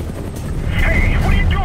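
A helicopter gunship in the video game Prototype 2 drones under loud rumbling game action, with distorted whooshing sweeps, while a character speaks over it.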